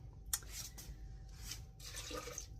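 A cup of water poured into an Instant Pot and a rice cooker holding cubed sweet potatoes, heard as a few separate splashy bursts with short gaps between them, fairly faint and with no voices.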